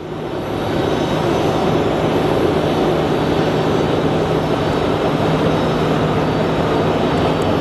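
A jet airliner at Phoenix Sky Harbor Airport, a steady loud roar that swells in within the first second and then holds as a broad, continuous rush.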